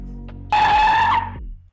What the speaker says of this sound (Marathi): ड्रायव्हरने कारचा ब्रेक दाबला